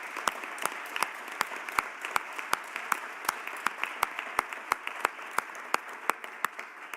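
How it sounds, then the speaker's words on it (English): Scattered clapping from an audience at a community safety public forum in Burlington, sharp individual claps repeating steadily at moderate loudness over a faint room background, with no talking. "So maybe we can do a round of applause or some form of appreciation."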